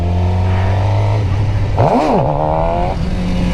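A stock Suzuki GSXR 600 revs sharply during wheelie practice: a steady close engine drone swells into one rising-and-falling throttle blip, then drops back to a lower steady running note.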